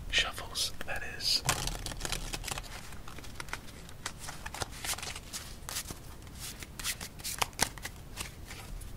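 Playing cards are riffled and shuffled repeatedly up close, quick crisp flutters and taps in uneven bursts.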